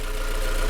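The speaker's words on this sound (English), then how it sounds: "Okay, engine runs no problem." A 1996 Honda Integra Type R four-door DB8 engine idles steadily, a continuous mid-pitched hum with no pauses, close and moderately loud, and no talking.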